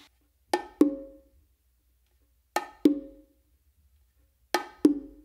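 Bongos played by hand in a short combination ending with open tones on the macho and hembra drums, three crisp two-stroke pairs spaced evenly apart with silence between, close and clear with no talking.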